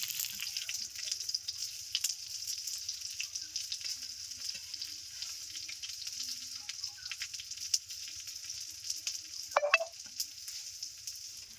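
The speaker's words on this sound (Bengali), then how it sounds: "এরকম ভাবে মিডিয়াম আছে আস্তে আস্তে ভেজে নেব আরও পাঁচ মিনিট মতো" Egg paturi wrapped in pumpkin leaves fries slowly in a pan over medium heat, giving a faint, steady soft sizzle with a brief scrape near the end.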